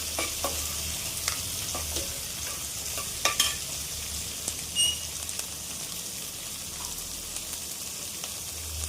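Onions frying in a pan with a pinch of salt for chutney, a steady soft sizzle with scattered scraping stirs and a couple of sharper clinks, close and continuous.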